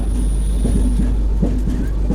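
Anga Express (12254) rolling into Vizianagaram station in Andhra Pradesh, a steady loud rumble with repeated rhythmic wheel clicks over rail joints, heard from on board without talk.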